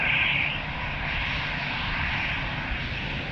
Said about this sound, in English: Croatia Airlines. Airbus taking off in front of us.